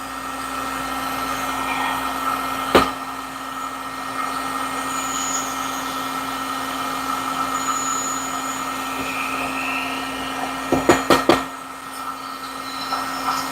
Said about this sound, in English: I'm putting these heads on a heat gun, putting a little bit of heat on them